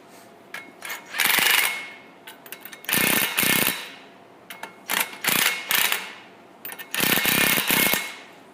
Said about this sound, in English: Just make sure you have enough threads started prior to running it with the impact.